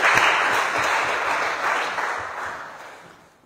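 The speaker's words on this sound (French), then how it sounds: "Acclamons très fort" A church congregation claps together during a worship service, a dense, steady wash of applause that holds strong and then slowly fades away near the end.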